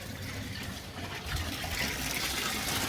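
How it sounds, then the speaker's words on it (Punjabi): A steady gushing stream of water is poured into a drinking container for chickens, continuous and fairly close for about three seconds. "ਪਾਣੀ ਲਿਆ ਕੇ ਪਾਈਏ"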